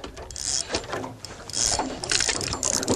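Fishing reel drag clicking as a dorado takes line on the Paraná River, a rapid, uneven ratcheting buzz with bursts of bright clicks, close and moderately loud, over outdoor background noise.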